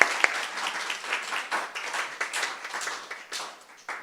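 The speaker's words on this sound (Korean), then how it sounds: "자, 마지막 박수 쳐주시죠." An audience at a church Bible lecture gives a short round of applause, a dense patter of many hands clapping at moderate loudness.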